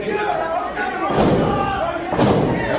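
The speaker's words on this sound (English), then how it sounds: "You can hear the sick thud of flesh on flesh." A wrestler's long arm smashes into an opponent's sternum during a Ryse Wrestling match, giving two heavy, close flesh-on-flesh thuds about a second apart over a loud, continuous crowd roar.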